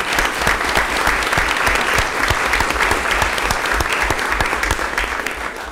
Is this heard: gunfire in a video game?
no